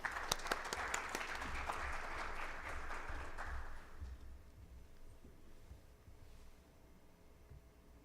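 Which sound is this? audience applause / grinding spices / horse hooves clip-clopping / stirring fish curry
audience applause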